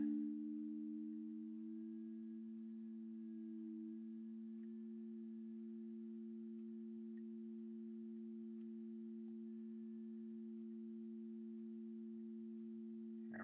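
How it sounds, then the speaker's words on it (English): Two pure sine tones, A220 and E330, sound together as a perfect fifth, a smooth steady hum held for several seconds, with the upper tone gliding slightly into place at the start. "now I'm going to move it up to a perfect fifth"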